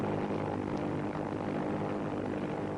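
Japanese warplanes fly over Bathurst Island off northern Australia in a large formation, a steady droning propeller roar that holds evenly at a distance with no voices.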